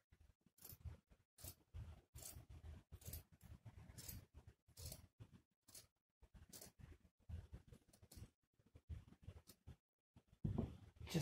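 Scissors cut through a folded fleece blanket with a rhythmic series of short, close, soft snips and pauses, quiet and with no talk.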